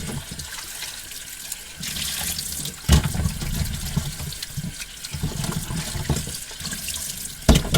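Water runs steadily from a tap into a sink for washing dishes inside a motorhome on a rainy day, a continuous splashing stream with a few louder clunks and surges along the way.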